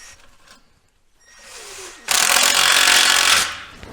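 A 13 mm stainless exhaust band clamp being tightened on a GMC/Chevy exhaust, with faint ratcheting, then a loud burst of power-tool whirring lasting about a second and a half.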